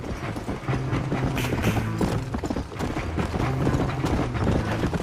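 Horse hooves clip-clop steadily in the Red Dead Redemption video game, a continuous rhythmic trot under a dense wash of game ambience and noise.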